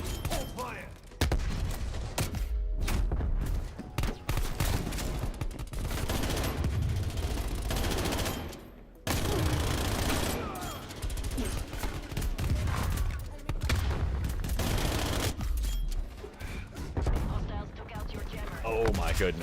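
Dense gunfire from Call of Duty Vanguard multiplayer, with rapid automatic bursts and single shots packed together almost without pause, loud and close, and a player talking over it.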